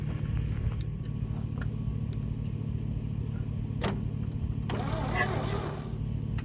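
A 1969 Chevrolet C30 truck cranks over as someone tries to start it, giving a steady, fairly loud low churning rumble throughout with a few sharp clicks and knocks on top.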